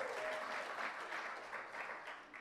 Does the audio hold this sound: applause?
yes